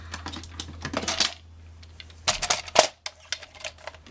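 Card paper being cut for a handmade flap card, giving a run of close, crisp snipping and crackling bursts in two clusters with short pauses between, alone without talk.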